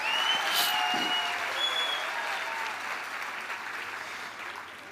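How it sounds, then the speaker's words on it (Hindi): Loud, dense applause from a large audience welcoming first-time attendees at an AWPL gathering in Kota, sustained and slowly fading over a few seconds. "एक बार जोरदार ताली बजा के उनको स्वागत करो"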